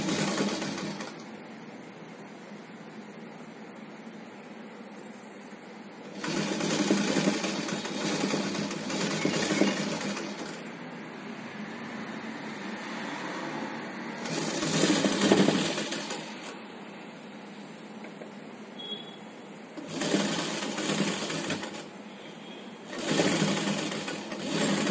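A sewing machine stitches the folded hand seam of a child's umbrella frock in bursts of steady whirring, with quiet pauses between runs and no talk.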